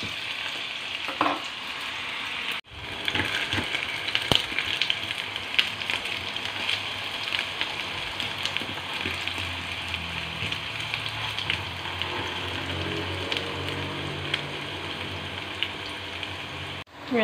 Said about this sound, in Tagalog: iprito ho natin yung carrot